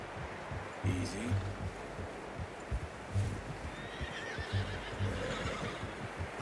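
A horse in Red Dead Redemption 2 neighs and whinnies over clip-clopping hooves and a steady outdoor background, with a faint murmur of voices.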